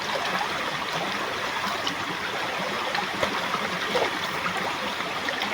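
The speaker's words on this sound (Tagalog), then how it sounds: "Nagupa lang ako dito sa ilog ngayon." A river flows steadily with a continuous close rushing and trickling wash, even and unbroken, with no voices.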